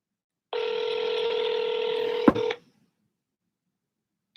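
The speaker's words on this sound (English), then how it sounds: "can you guys hear the phone?" Phone call tones played over a speakerphone during a live camping talk show: a steady two-tone telephone signal holds for about two seconds, then cuts off with a click.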